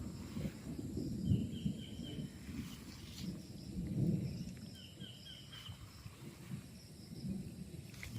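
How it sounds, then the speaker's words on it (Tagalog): Low rumbling thunder rolls in several swells over steady rain on a farm lot with coconut trees in Pagsanjan, Laguna, with faint insect or bird chirps in the background. "kumukulog, medyo umuulan po ngayon"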